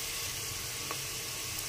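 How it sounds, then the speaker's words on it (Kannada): Onions fry in a pan for egg butter masala, a steady close hiss of sizzling oil that continues evenly with no talk over it. "ಆನಿಯನ್ ಚೆನ್ನಾಗಿ ಫ್ರೈ ಆಗ್ತಿದೆ"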